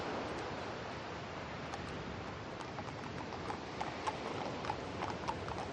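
Horse hooves clatter in a steady galloping clip-clop, loud and close, over a dense rushing noise like rain or wind.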